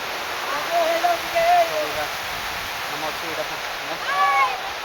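Steady rushing water at the Tangankana waterfall, a broad continuous roar with a few voices calling out over it now and then.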